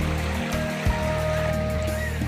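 Shallow stream of water from the Palasdari waterfall flowing steadily over rocks, a continuous close rushing wash with no talk.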